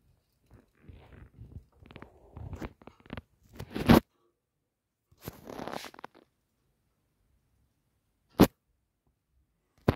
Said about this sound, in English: Try not to get her to chew the bars